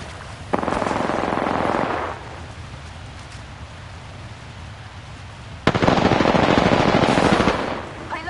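Two long bursts of rapid machine gun fire in a video game, close and loud, the first about a second and a half and the second about two seconds, separated by quieter background.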